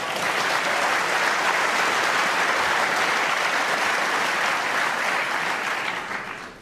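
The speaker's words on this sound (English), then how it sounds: "Great round of applause" Sustained, loud audience applause at a snooker world championship semi-final between Judd Trump and Stuart Bingham, a steady dense roar of clapping that tapers off at the end.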